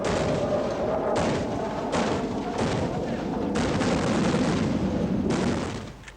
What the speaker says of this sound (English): The Palestinians nevertheless fought on with their anti-aircraft guns.